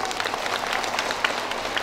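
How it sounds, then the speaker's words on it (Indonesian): An audience applauds at a community aid handover event, a brief even patter of many hands clapping at moderate loudness. "Tepuk tangan dulu."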